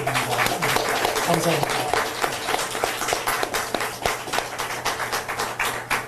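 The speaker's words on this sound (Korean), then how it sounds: "다시 한번 큰 박수 부탁드립니다" Audience applause at a Korean political campaign event, a steady wash of clapping running throughout while someone speaks over it, with a few sharper individual claps standing out.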